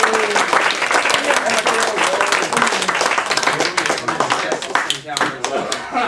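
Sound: audience applause for a speaker

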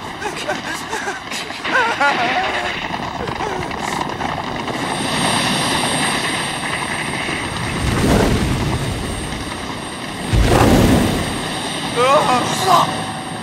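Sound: helicopter in a film

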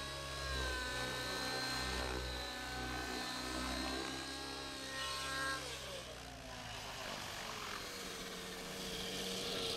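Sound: radio-controlled helicopter doing aileron flips

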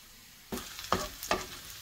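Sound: radish, onion and pepper sautéing in a pan

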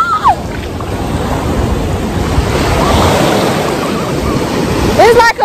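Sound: ocean waves

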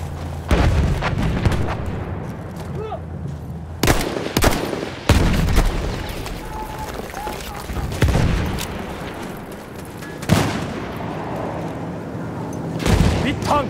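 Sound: artillery fire and gunfire in video game Battlefield 1

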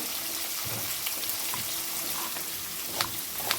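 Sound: masala spices frying in a pan for biryani

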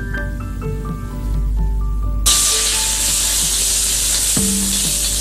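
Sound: shiitake mushrooms stir-fried in hot oil in a wok

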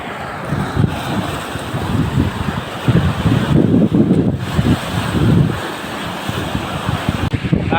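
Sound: big ocean waves on the shore

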